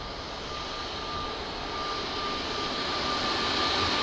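Boeing 777 jet engines at Lisbon Airport, a steady, loud broadband roar with a faint high whine, holding constant and swelling slightly toward the end.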